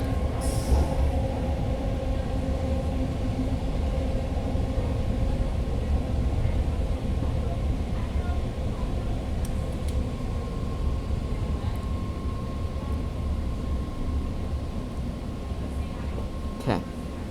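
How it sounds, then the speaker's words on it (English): Steady rumbling rattle of a BART subway train running along the tracks, loud and continuous with clanking underneath, with faint voices at times. "you heard a rattling noise at the bottom of the train"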